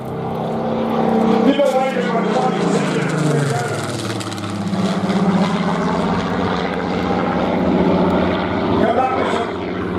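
A Supermarine Spitfire flies past at a Tankfest 2025 military vehicle show, its propeller engine drone rising and then falling in pitch as it passes, heard loud under crowd and commentary talk.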